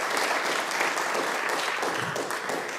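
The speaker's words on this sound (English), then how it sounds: "if we can give them a round of applause" Sustained applause from a room full of people at a city planning commission meeting, continuous and fairly loud, with no talking.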